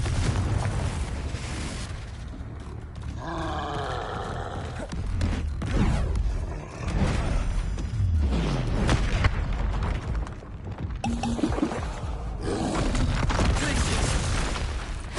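Confringo blasting spell explosions in Hogwarts Legacy, several booming bursts with crackling debris spread across a busy stretch of combat sound, loud and close, with a spoken spell call mixed in.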